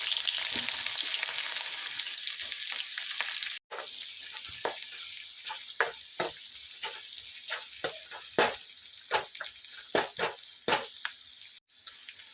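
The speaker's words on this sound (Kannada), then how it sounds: "ಈಗ ಹೆಚ್ಚಿಟ್ಕೊಂಡಿದ್ದು ಉಳ್ಳಾಗಡ್ಡಿ ಹಾಕೊಂಡಿರ್ಬೇಕ್ರಿ." Chopped onions fry in hot oil with mustard seeds and cumin, giving a steady, loud sizzle broken by repeated stirring scrapes and a couple of brief dropouts, with no talk.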